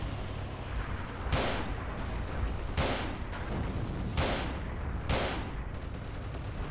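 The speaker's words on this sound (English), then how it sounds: "We have a machine gun out there." Gunfire in the Forgotten Hope 2 multiplayer battle at Seelow Heights: four sharp, loud bursts spaced about a second apart over a constant rumbling battlefield bed, with no talk.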